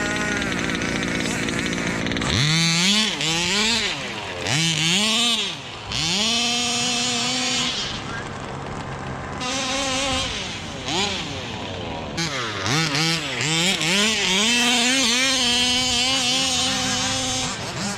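A Rovan Baja 5b 1/5 scale RC car's small gas engine revs loudly in repeated rising and falling bursts, buzzing and whining up close with brief gaps between throttle blips, and occasional voices under it.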